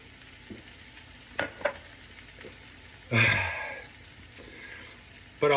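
Sweet potato hash frying in a pan, with a low steady sizzle and a few sharp scrapes as it is stirred, then a louder burst of sizzling and shuffling; a person makes a brief vocal sound.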